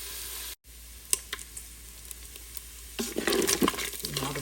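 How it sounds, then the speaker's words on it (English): Bacon browns on the sauté setting of an Instant Pot with a steady, faint sizzling hiss and scattered pops. The crackle grows louder and busier toward the end. "one advantage of having the Instant Pot saute function, is you don't have to use another pan to brown the bacon"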